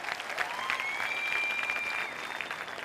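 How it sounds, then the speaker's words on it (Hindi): Sustained audience applause at a Club Netsurf mentoring event, a steady wash of many hands clapping across the whole stretch at moderate distance, with no talk over it. "एक बार जोरदार ताली आप।"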